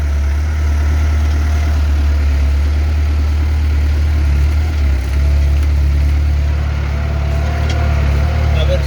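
A tractor engine labours up a muddy uphill farm track after rain, a loud continuous low drone with a steady heavy rumble throughout.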